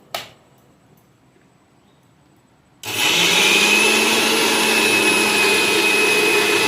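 A new electric mixer grinder grinding biuli (urad) dal starts after a short quiet pause with a knock, then whirs loudly and steadily at close range for several seconds, with no voices.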